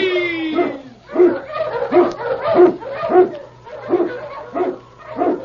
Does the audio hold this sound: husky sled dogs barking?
yes